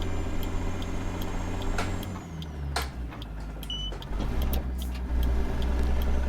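FLX 359 truck engine with a Spicer gearbox in American Truck Simulator, a low diesel drone that drops and picks up again as gears change, with mechanical clicks and ticks over the steady running.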